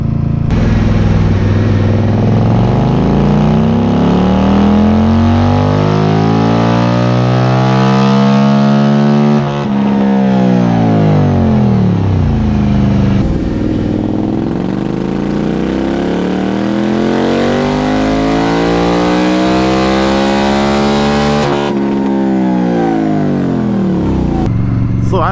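A 2018 Indian Scout motorcycle engine revs hard through rising and falling sweeps on a dynamometer, loud and close, winding up repeatedly.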